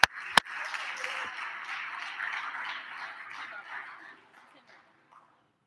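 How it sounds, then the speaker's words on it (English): Applause fills a legislative chamber during a House floor session: a sustained round of clapping from the members that swells, holds for several seconds and then fades away, with a couple of sharp knocks right at the start. "give him a round of applause"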